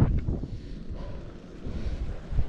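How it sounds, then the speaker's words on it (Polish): Strong wind buffets the microphone outdoors beside the water, a heavy low rumbling roar that surges and dips unevenly throughout, with no voices. "Ty, za duży wiatr"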